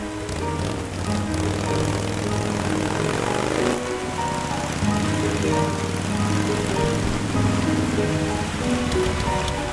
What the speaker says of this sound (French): Ce serait dommage de couler à cause d'une pluie au plafond.